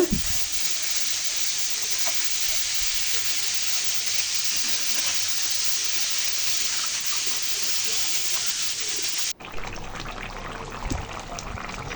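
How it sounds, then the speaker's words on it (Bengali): Pangas fish frying in oil in a pan makes a loud, continuous hissing sizzle close by that stops abruptly near the end, leaving quieter kitchen noise. "এই যে মাছগুলো ভেজে নিতেছি ভালো করে"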